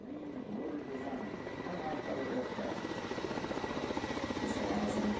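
Kamov Ka-50 Black Shark attack helicopter with counter-rotating rotors and no tail rotor, its blades thudding in a fast, steady rhythm under a whining turbine, growing slightly louder as it passes at moderate distance.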